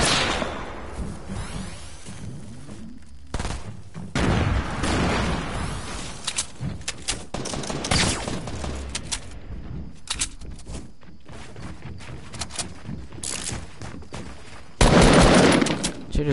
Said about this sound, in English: Should have shotgunned him.